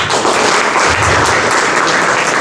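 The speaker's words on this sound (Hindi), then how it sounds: "एक बार आपके लिए जोरदार ताली।" A theatre audience at a drama festival in Ambala applauds steadily, a dense, loud wash of many hands clapping at once with no pauses.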